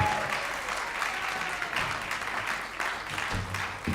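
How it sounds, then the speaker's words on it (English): A crowd claps steadily and warmly throughout at a Gaura Purnima and Holika Dahan festival gathering, a dense sustained round of applause with no speech. "let's give a warm round of applause to Sri Radharaman"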